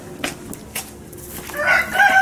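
A rooster crows loudly nearby near the end, preceded by a few faint taps and rustles.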